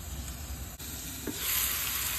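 Ingredients sauté in a covered pan, a soft steady sizzle with a faint stir or lid shift near the middle, the frying hiss swelling slightly toward the end.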